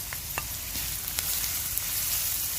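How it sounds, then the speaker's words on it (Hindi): Onion with garlic and ginger paste fries in a pan, giving a steady soft sizzle with occasional scrapes and taps of a stirring spoon, close and alone without voices. "और बस 1 मिनट के लिए इसको अच्छी तरह से इसमें फ्राई करेंगे।"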